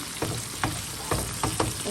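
Okra frying in spices over low heat in a pan, with a steady soft sizzle broken by several sharp stirring scrapes spaced irregularly, close and moderately loud, no voices.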